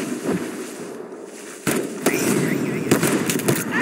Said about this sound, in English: Someone is just... Opening fire!